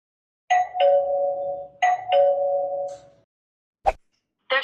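An Aqara G4 video doorbell chime rings twice in a row as a clear two-tone ding-dong, each note ringing out, followed by a short knock-like click and the start of another sound.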